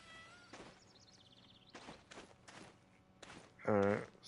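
In the video game Black Desert, a cat gives one loud meow near the end, after scattered footsteps and soft thuds in a quiet scene.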